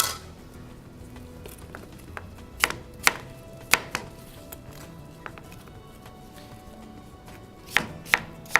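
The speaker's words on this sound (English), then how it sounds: "As you're cutting your apples, it may be easier to make sure they're laying flat." A knife chops apples on a cutting board for a salad with maple and blue cheese, giving scattered sharp knocks over a faint background, with a tight cluster of cuts near the end.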